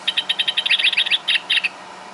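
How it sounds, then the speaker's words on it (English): Electronic bird-call box sold by a bird feed store, triggered by motion, repeating quick, bright chirps in a steady rhythm that speeds into a trill before a few spaced final calls, clear and close in a quiet room. "They don't know where the bird sound is coming from."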